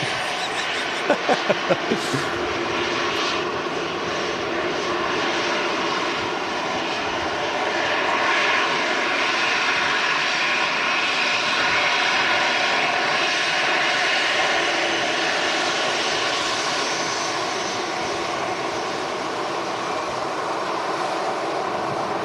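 EasyJet airliner jet engines at windy Manchester Airport: a loud, steady broadband roar that holds for the whole span, with a few brief clicks near the start.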